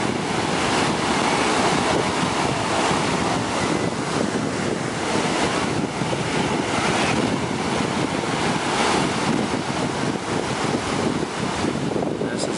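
Ocean surf rolls onto the beach at Clearwater, Florida, a broad continuous wash of breaking waves mixed with heavy wind buffeting on the microphone, loud and unbroken throughout.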